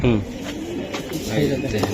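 A pair of old-line Bagha pigeons coos softly up close, low repeated calls under and between people talking.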